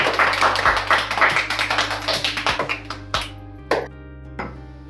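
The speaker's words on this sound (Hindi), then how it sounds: "तालियां।" Hands clap in a quick, steady rhythm after a birthday song at home, close and crisp over a faint constant hum, then slowing to a few scattered final claps before stopping.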